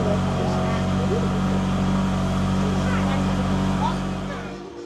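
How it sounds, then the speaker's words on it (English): A loud, steady low motorboat engine drone with a constant hum, heard close up on board on a river, fading slightly at the end. "So here I am on the boat going to the beach, which is just a few meters down the river."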